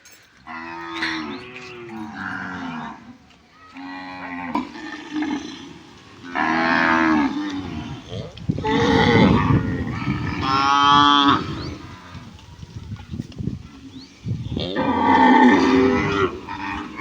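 Several cows at a cow shelter moo loudly one after another, long drawn-out calls overlapping at close range.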